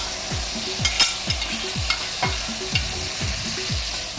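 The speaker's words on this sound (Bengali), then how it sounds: "তেলের মধ্যে আমি এখন মাংসটা দিয়ে দিচ্ছি।" Chicken pieces fry in hot oil while being stirred, a loud, close, steady sizzle broken by repeated scraping strokes of a spatula in a regular rhythm, with no talking.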